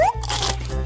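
Crispy food crunches loudly in a single close bite, followed by a brief stretch of chewing noise.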